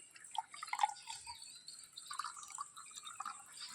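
Liquid poured into a container, a faint, close trickle with small drips and splashes that comes and goes, soft against quiet room tone.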